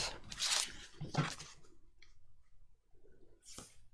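Scissors snipping through lace for a junk journal, a few close crisp cuts with short scraping swishes, quiet and spaced apart with near-silence between.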